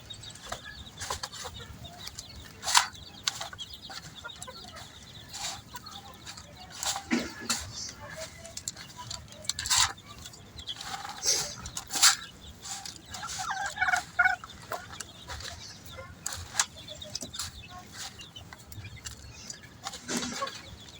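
Farm hens clucking and calling while eating moistened mixed feed, scattered irregular clucks and sharp pecking sounds at close range, with a voice speaking intermittently underneath.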